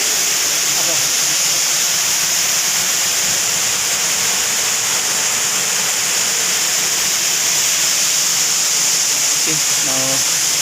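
Mahayahay Falls in Matalom, Leyte, Philippines, roars as a loud, steady waterfall hiss filling the whole scene, with faint voices briefly under the rush.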